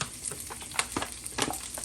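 Crumbled sausage frying crispy in a pan for gravy, a steady sizzle broken by the scrape and clatter of stirring.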